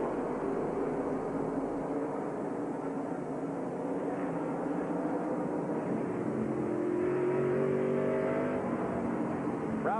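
Racing trucks on a 1997 race track roar with dense, continuous engine noise, one rising rev climbing toward the end, loud and steady with no voices on top.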